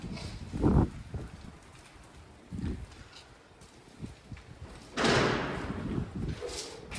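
A loose shutter bangs a few times at irregular intervals, with a louder rattling rush of wind-blown noise near the end.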